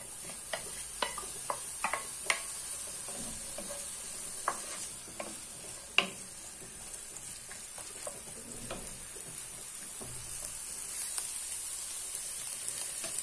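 Onions frying in hot oil give a quiet, steady sizzle with scattered small crackles and pops throughout, no talking.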